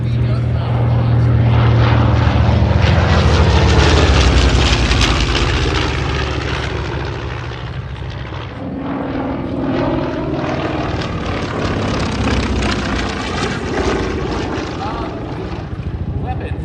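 A Hellcat warplane dives at the Oregon International Airshow in McMinnville, its loud propeller engine roar swelling and fading as it passes, with rising and falling pitch sweeps filling the whole stretch.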